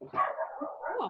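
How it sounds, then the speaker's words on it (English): A dog barks and yips close by in a quick cluster of short barks that runs through the whole moment, loud against a quiet indoor background, with a brief word spoken in the clip. "Sorry about the dog."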